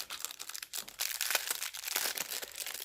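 Crinkling packaging rustles and crackles as a parcel of craft supplies and trinkets is unpacked, close and busy with rapid bursts of handling noise and no talk.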